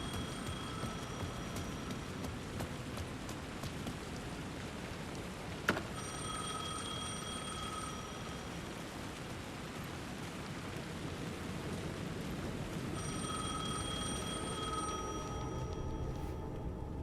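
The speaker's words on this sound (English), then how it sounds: "The phone was ringing again." A telephone rings in the video game Alan Wake 2, two bursts of repeated electronic trills separated by a pause, faint and set against a steady rain-like hiss with a single sharp click in between.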